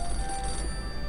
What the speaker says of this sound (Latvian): telefons zvana sekretārai